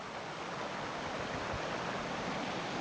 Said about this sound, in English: The sound of running water.